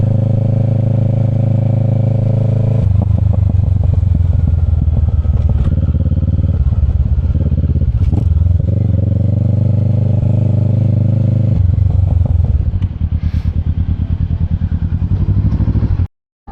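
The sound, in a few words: motorcycle parallel twin exhaust rumble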